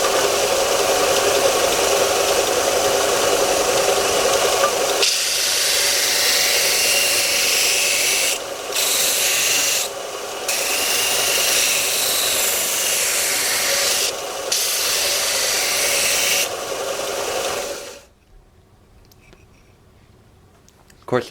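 An Einhell TC-US 400 bench sander grinds a 20 mm thick piece of softwood with a loud, steady, rasping whir that dips briefly a few times as the wood is pressed and lifted, then cuts off as the motor winds down.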